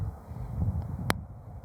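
Wind buffets a shotgun microphone fitted with a furry windsock on a windy outdoor day, leaving a low, faint, uneven rumble with one brief sharp click partway through.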